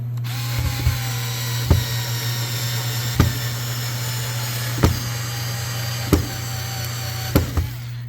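A Ryobi 4V cordless screwdriver drives a screw into soft wood: a steady, close motor hum broken by about six sharp clicks spaced through the run, with no talking.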